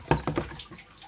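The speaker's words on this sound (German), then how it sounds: "wenn ich bei der Sprühflasche hier mal sprühe" A spray bottle used for watering plants gives three quick, close spritzes in a short rhythmic burst, the last weaker as the water sputters out, followed by quiet.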